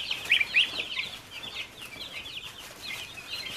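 Backyard chickens clucking and chirping repeatedly in short bursts at moderate distance, with faint rustling, steady and unaccompanied by talk.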